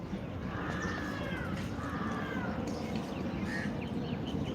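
A couple of crows caw from a distance in Central Park, Kharghar, Navi Mumbai, over a steady outdoor rumble, their harsh calls spaced a second or so apart.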